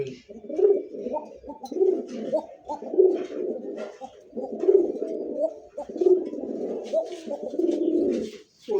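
A large male pigeon coos repeatedly nearby in deep, throaty rolling phrases, each cycle building and dropping in a steady rhythm, with faint background chatter.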